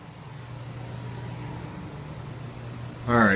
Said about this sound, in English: excuse the background noise of the air conditioner here